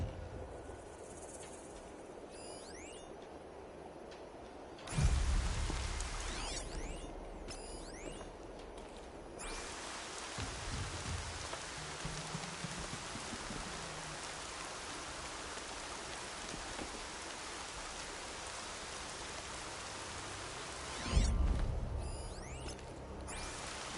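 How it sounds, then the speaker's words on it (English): Steady rain falls in the Horizon Zero Dawn game world, a constant hiss with faint insect chirps, broken by a couple of soft thuds. "More rain. My boots will get damp."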